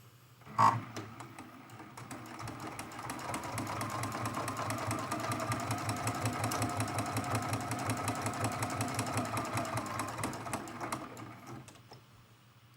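A sewing machine set to straight stitch tacks down quilt binding on a mug rug, running steadily for about ten seconds with a fast, even whirring rhythm after a single knock at the start.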